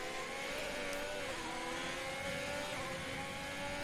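An F1 race car engine from the F1 2020 game on PS4, racing at the Dutch Grand Prix, revs high and steady with pitch rising and falling as it holds speed, fairly quiet and alone.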